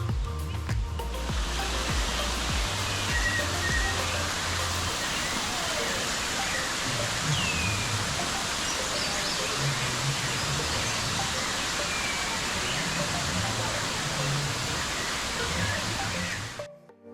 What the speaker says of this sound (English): Waterfalls tumble in the background